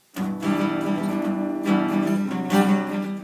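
A guitar strums chords in a steady rhythmic pattern, with a few accented strokes ringing out clearly and no voices.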